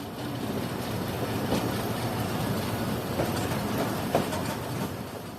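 The 12 Down Hazara Express runs at night on the Lalamusa–Shorkot branch line near Sargodha Junction, a steady broad rumble of carriages rolling on track with faint rhythmic clicks rising now and then.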